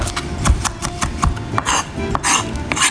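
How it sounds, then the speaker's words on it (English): Chopped fresh garlic crushed with a knife on a cutting board for tomato pasta sauce: rapid, repeated close-up tapping and scraping knocks with a steady rhythm and no voices. "And then crush it down."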